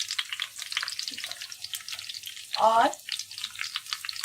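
Onions fry in a pan with cumin and red chillies for masoor daal, with a steady hiss of sizzling oil throughout, a brief louder splutter midway, and one short spoken word.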